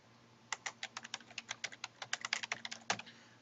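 Typing on a keyboard, a quick irregular run of about two dozen crisp key clicks close to the mic, faint and alone over a low steady hum.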